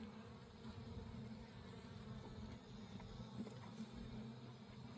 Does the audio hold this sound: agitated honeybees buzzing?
yes